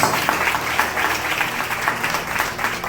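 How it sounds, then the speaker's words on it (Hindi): A church congregation at a Hindi Christian sermon claps together in steady, rhythmic pulses, a dense and fairly loud wash of hands that continues throughout. "ताली बजाओ, ताली बजाओ"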